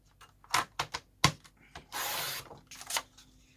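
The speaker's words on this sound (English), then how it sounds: "So let me just go ahead and cut it." Paper being cut for a journal cover, heard as a few sharp, separate snips and crinkles followed by a longer rough rustle of paper sliding, all close and fairly quiet, with no voices.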